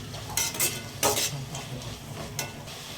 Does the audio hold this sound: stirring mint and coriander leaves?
yes